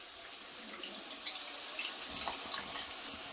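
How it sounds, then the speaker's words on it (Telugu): Tamarind juice is poured into a pan of fish curry, giving a soft, steady trickling and splashing of liquid that is quiet and close, with small drips near the end. "చింతపండు జ్యూస్ అనేది మనం వేసేసుకుందాం"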